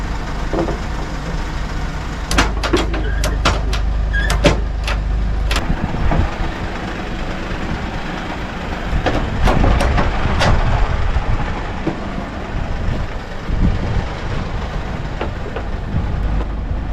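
A Honda Dominator 650 dual-sport motorcycle, broken down, rumbles at a steady idle close by, with sharp clicks and bursts over the engine drone early on and a continuous low hum throughout.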